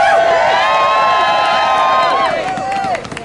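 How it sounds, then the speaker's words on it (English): A large crowd cheers and whoops loudly at a reproductive justice rally in Rhode Island, with shrill sustained yells and shouts overlapping in a dense, continuous roar that tapers slightly toward the end. "Let's give a cheer."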